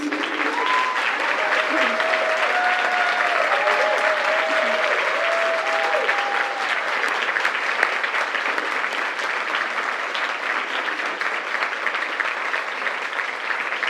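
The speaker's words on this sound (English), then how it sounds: "please stand and please give them a round of applause" Loud, sustained applause rolls through a Chicago gathering for elected officials who stand to be recognized, a thick, even clapping lasting many seconds, with a few raised voices and cheers riding on top early on.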